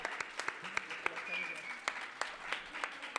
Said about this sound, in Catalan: un meravellós públic, un fort aplaudiment